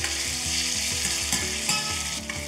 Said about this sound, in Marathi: बारीक चिरलेला कांदा घालायचा आणि अर्थातच कांदा छानपैकी सोनेरी रंगात परतून घ्यायचा